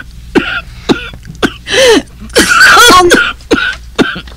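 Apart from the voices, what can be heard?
woman coughing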